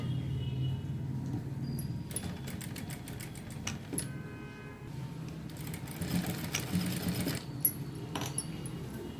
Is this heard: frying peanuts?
no